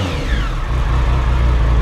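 A Triumph Sprint ST 1050 motorcycle engine runs close and loud, its throttle blipped as the revs rise and settle into a steady, rumbling idle.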